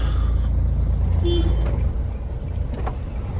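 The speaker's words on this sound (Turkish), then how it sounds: "Korna." A truck horn gives one short honk over steady engine and road rumble, at a loading area in Sincan-Akyurt, Ankara.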